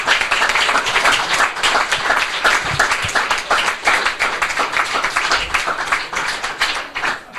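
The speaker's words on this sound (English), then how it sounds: "I think a big applause for the Russian teams" An audience claps for the Russian project teams at the 2019 Innovation Day award ceremony. The applause is loud and sustained, with individual claps audible all the way through.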